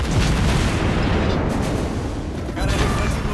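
A warship explodes on being destroyed in the naval video game World of Warships Blitz: a dense, broadband booming blast with crackling bursts fills the whole moment, loud and near.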